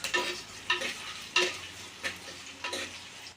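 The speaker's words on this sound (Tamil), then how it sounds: "தக்காளி எல்லாம் போட்டு வதங்கட்டுமா" Chopped tomatoes and onions sauté in a pan while a spoon stirs them in short, regular strokes, each scrape rising over a low sizzle, about five strokes in quick succession.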